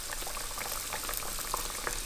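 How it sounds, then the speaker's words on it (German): Crepes frying in nearly a litre of hot oil in a pan, a steady dense sizzle and bubbling hiss throughout, close and loud with no speech. "So, ich beginne jetzt die Crepli auszubraten."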